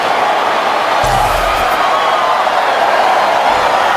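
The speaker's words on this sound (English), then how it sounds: "Well, the crowd really responding here in the third quarter." Football stadium crowd noise at an Atlanta Falcons preseason game against the Titans, a steady broad roar of many voices throughout, with a brief low thump and a swell of sound near the start.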